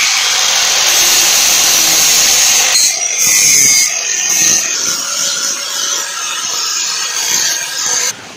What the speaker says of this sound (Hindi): अब हम इसको बफ कर रहे हैं।